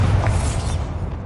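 A Bombarda explosion spell cast in the Hogwarts Legacy video game, heard as a deep, loud rumbling boom that sustains through the whole moment and tapers slightly at the end.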